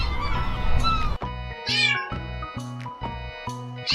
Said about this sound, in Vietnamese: Chú mèo con.